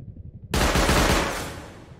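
Automated turrets in the video game Rust open fire after a brief quiet moment, a loud, rapid burst of gunfire that blurs into a dense roar and then tapers off.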